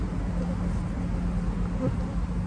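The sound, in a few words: honeybees swarming in a nucleus hive box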